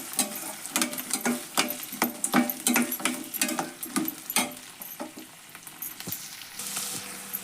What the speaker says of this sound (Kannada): ನೋಡ್ರಿ, ಇವು ಎಣ್ಣೆ ಒಳಗೆ ಫ್ರೈ ಆಗಕತ್ತಾವ